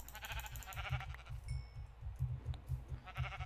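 Sheep bleat repeatedly in Minecraft, wavering, nasal calls, fairly close, with a couple of overlapping animals and a brief electronic tone in between.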